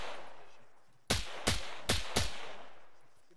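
Gunfire in the military game Arma, four sharp, loud shots in quick succession with echoing tails over a low rumbling background.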